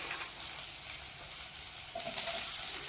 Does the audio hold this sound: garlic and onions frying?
yes